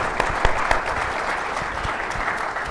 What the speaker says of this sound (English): Can we please give them a round of applause for sharing their time?